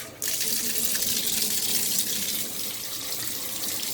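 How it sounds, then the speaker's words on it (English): Water runs steadily inside a vacuum cleaner's cyclone assembly, a loud, continuous hissing gush that starts abruptly and carries on without a break. "Running water inside of a cyclone assembly is a bad idea"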